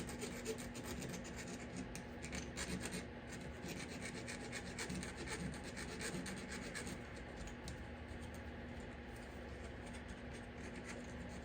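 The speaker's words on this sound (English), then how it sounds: "So what I have to do is actually kind of file that down." A hand file rasps steadily against the spot where a bolt sat on a 1971 Chevelle coilover suspension part, a continuous scraping with an even back-and-forth rhythm, close and moderately loud, with no talking.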